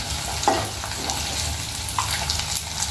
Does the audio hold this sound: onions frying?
yes